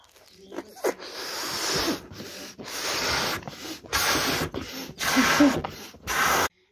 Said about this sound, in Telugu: ఎవరు ఎక్కువ పెద్దగా బెలూన్ ఊదుతారో